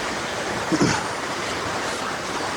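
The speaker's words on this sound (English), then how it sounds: "Nice little waterfall." A small waterfall rushes in a steady, close, unbroken wash of noise from start to finish.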